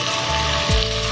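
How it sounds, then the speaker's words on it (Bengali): Chicken stomach frying in a pan while being stirred into a curry, a close, steady sizzle with a brief scrape of stirring partway through, no speech. "স্টমাকটা দিয়ে ভালো করে আমি কষিয়ে নেব।"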